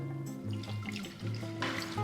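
Water pouring into a Thermomix bowl while making focaccia dough, a steady liquid trickle and splash with faint resonant tones, close by and alone.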